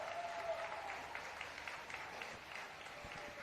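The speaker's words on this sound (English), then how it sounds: "To a large round of applause as Adelaide Thompson makes her way onto the" Crowd applause at a women's NPL NSW football match as a substitute comes on, a steady, fairly distant wash of clapping from the stands that holds for the whole stretch.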